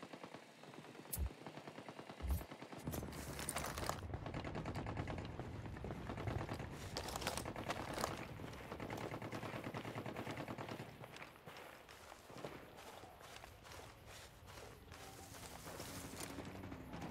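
Gunfire from the tactical shooter Ghost Recon Wildlands, dense bursts of automatic fire and single shots cracking through a busy, continuous mix of game sound, with no clear talk over it.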